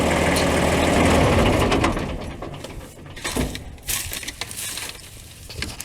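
A tractor engine runs steadily while pallet forks are fitted, a low idling drone under metallic clanks and knocks, loud at first and then somewhat quieter with sporadic clunks.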